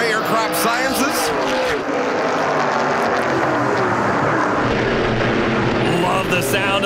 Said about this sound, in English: Love the sound of these NASCAR race cars at full song as Joey McComb in the Pilati number one gets